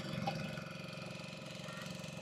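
A small boat's engine idles on the Godavari river during a boat ride, a steady low rumble with a mechanical pulse, close and continuous under faint background noise.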